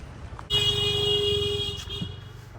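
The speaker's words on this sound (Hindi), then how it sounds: "मार मार हॉर्न मार, साले पागल हो गए भाई।" A loud, sustained motorcycle horn blares for over a second close by in Indian road traffic, followed by a shorter honk amid traffic rumble.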